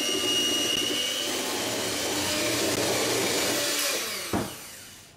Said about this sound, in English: just whisk all that up